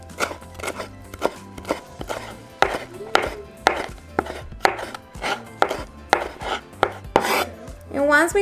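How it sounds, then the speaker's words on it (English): A knife chops cilantro steadily on a cutting board, a quick run of sharp, evenly spaced knocks close to the microphone, with no voices. "So we're going to start by chopping our cilantro."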